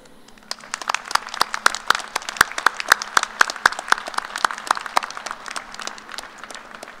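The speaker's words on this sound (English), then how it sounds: "Would you take a moment with me and give them a round of applause for their efforts?" A commencement audience of families and friends claps in sustained applause at a fall university graduation ceremony, a dense, steady patter of many hands rising quickly and holding for several seconds.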